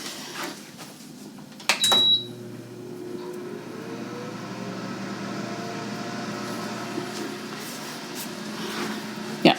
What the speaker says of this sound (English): I'm going to bake this in the toaster oven, which I need to turn on.